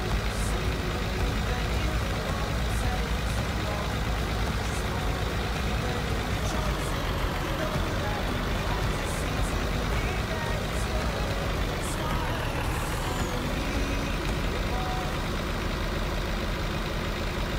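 A truck in Farming Simulator 19 drones with a continuous low engine rumble while driving through an old farm setting, with a slight pitch dip as it slows and brakes, under occasional French speech.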